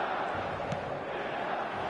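A stadium crowd in a football video game gives a steady broadband roar and murmur, continuous and fairly loud throughout the short stretch.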